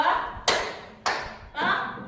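In a classroom ice-breaking game, hands clap in sharp, separate claps about half a second apart, close and crisp, with a teacher's voice faintly between them.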